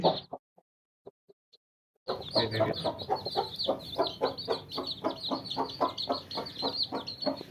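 After a few soft taps and a brief silence, an Aseel hen and her chicks cluck and peep nearby in a busy, rhythmic stream of calls.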